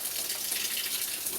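Water pouring steadily from a garden hose at an allotment in the UK during a heatwave, a continuous broadband splashing rush that holds even and fairly loud throughout.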